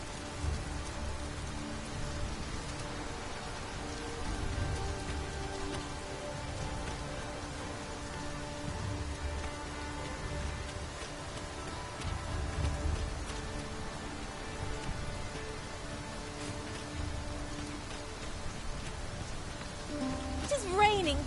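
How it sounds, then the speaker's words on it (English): Steady rain falls in the video game Dragon's Dogma 2, a soft, continuous patter and hiss that runs unbroken for about twenty seconds at a low level. "It is raining cats and drakes."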